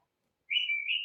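A talking pet bird gives a clear whistle, heard over a tinny Alexa Drop In call: a single sustained, slightly wavering tone that starts after a silent pause and runs to the end, with no talk.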